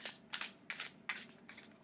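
Tarot cards shuffled by hand in four or five quick bursts, each a close, crisp riffling flutter with short pauses between, alone with no talking.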